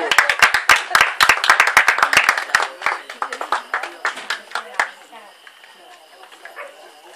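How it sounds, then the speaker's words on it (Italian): Audience at a live Neapolitan music show claps, starting with sharp, loud, fairly rhythmic claps that thin out and fade to scattered, quieter ones by the end. "Facciamo un applauso per Silvana."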